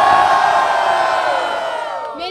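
A loud audience roars, whoops and cheers at a rap battle event, with the dense crowd noise sustained throughout before tapering slightly at the end.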